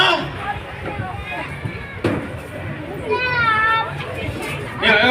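A crowd of kids and parents screams and shouts at a monster truck show, the children's voices shrill and close, with bursts of cheering and babble rising and falling over background noise.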